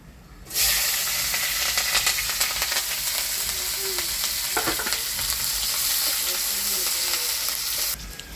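Chopped chillies sizzle in hot oil with black cumin seeds, a loud, steady frying hiss that lasts for several seconds with faint stirring scrapes underneath.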